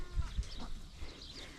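Goats on a farm during summer chores, spooked by birds dust-bathing, give a few short low calls near the start, then fade into quiet outdoor background.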